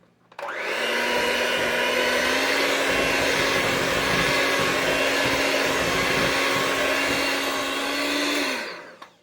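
An electric mixer whirs steadily through buttermilk pound cake batter, starting up sharply and running at a constant whine for about eight seconds before winding down, with no one speaking.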